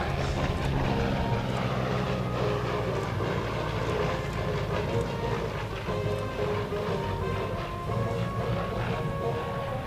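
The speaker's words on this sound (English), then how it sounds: "Here he comes from your right, Chris Avery and the Commemorative Air Force's FG-1D Corsair and the photo pass" At a regional air show, an FG-1D Corsair fighter makes a low pass, its big piston engine giving a loud, sustained rumbling roar that stays steady and near for about ten seconds.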